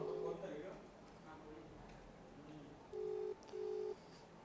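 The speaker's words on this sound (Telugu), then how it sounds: "సెట్ చేస్తున్నాను రింగ్ అవుతుంది ఫోను" Under a voice speaking, a phone line sounds two short ringback tones in a row, evenly spaced, fairly clear against the low background.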